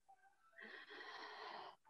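A long, breathy exhalation during a guided breathing exercise, a soft airy rush that swells after a faint lead-in and holds steadily for over a second before stopping, close to the microphone with no talking over it.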